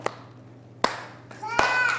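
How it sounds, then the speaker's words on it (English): A few sharp, separate hand claps from children, quick and close, with a voice speaking between and over them. "The two hands started to clap and have a marvelous time."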